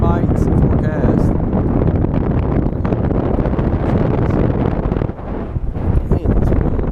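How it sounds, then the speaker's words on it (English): Strong wind buffeting a microphone on a boat during pre-spawn bass fishing on Mountain Island Lake, a loud continuous roaring rumble with someone talking over it. "This wind is crazy."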